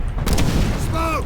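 A grenade explosion in World at War hits hard and loud for a brief moment, followed by a short rumble and battlefield noise.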